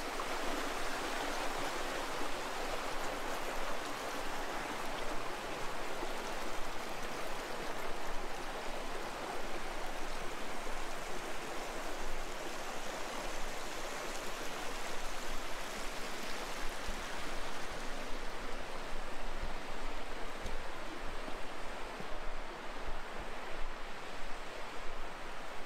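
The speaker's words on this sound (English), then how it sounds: "I'm gonna let you listen to the rushing water." A rushing mountain stream along the Catwalk trail in a New Mexico canyon pours steadily, a dense, unbroken wash of water noise that stays even and close for the whole stretch, with no voices.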